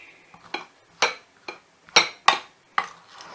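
A spoon scrapes and clinks against a bowl of peanuts while butter is scooped onto them, six sharp separate knocks about half a second apart, close and fairly loud with no talking.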